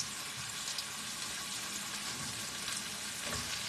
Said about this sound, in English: just stir it up a little bit